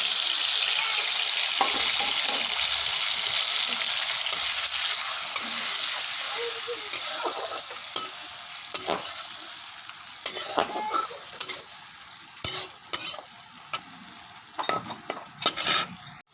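Grated tomato and ginger hit hot oil with a loud, steady sizzle that slowly fades, followed by sharp scattered clinks and scrapes of a spoon in the pan; no voices.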